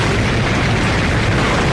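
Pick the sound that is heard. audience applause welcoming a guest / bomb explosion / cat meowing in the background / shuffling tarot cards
bomb explosion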